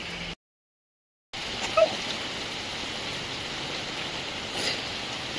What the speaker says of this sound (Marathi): पण खरंच पावसाने वाट लावली, जाई पण नाही पाऊस